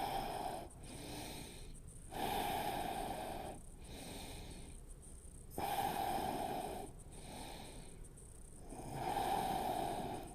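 Deep, audible yoga breaths taken during a hips and hamstrings stretch, close and loud, alternating between long inhales and exhales in a slow, regular rhythm over about ten seconds.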